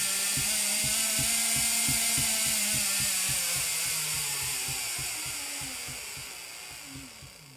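Small servo motor on an ESP32 robot sweeping back and forth, a steady rapid mechanical ticking buzz with a whirring whine, close and continuous, slowly fading slightly toward the end.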